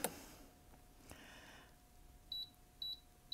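Three short, high electronic beeps from an HTVront Auto Tumbler Press, evenly spaced near the end, following a quiet stretch with faint clicks and light handling noise.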